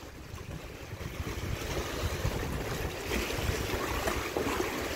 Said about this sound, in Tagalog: Medyo lumalakas ng alon kaya medyo risky